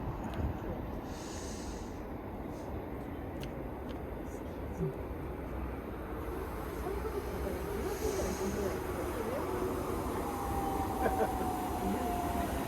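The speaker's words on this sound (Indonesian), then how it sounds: "まもなく列車が参ります。" A train pulls into a station in Japan with a broad, steady rumble and hiss. Faint bell-like chimes ring early on, and a thin rising whine comes in toward the end.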